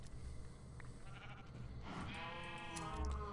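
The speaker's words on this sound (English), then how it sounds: "Come here, you stupid sheep." Video game sheep bleating, a couple of wavering, nasal bleats, the clearer one in the second half, over low background noise with no talk.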